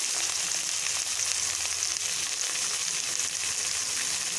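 Washed carrots fry in hot oil with a loud, continuous close sizzle and faint stirring, and no voices.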